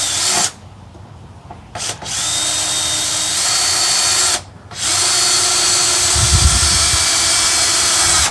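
A power drill drives screws into a wooden camp table frame in long, loud whirring bursts, each cut short by brief pauses and followed by a low thump near the end.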